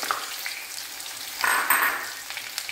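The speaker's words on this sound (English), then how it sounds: "To this I will be adding the green chilies. I will just saute it for some time." Green chilies, ginger and garlic sizzle and crackle in hot vegetable oil, a steady close frying hiss that swells with stirring, no voices.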